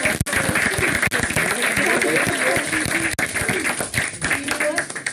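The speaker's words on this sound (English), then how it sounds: "Round of applause." An audience at a tsunami education session gives a round of applause, dense clapping over a busy room with voices mixed in.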